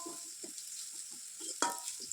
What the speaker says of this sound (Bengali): এদিকে এটা ভেজে নিচ্ছি, বেশ আলু ভাজা হয়ে যাচ্ছে।